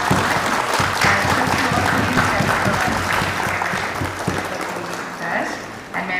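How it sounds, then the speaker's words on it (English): Audience at an expo panel discussion claps in a sustained round of applause, a fairly close, steady patter with some voices mixed in. "Can you round of applause for the"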